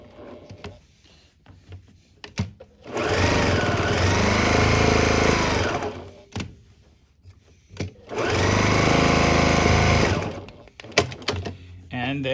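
A sewing machine stitches down a quilted reversible casserole carrier in two loud, steady bursts of roughly three seconds each. Quieter handling sounds and clicks fill the gaps between them.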